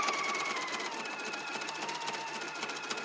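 An embroidery machine stitches edge-to-edge quilting in white thread, a steady fast mechanical whir with rapid needle ticks, close and continuous with no talking.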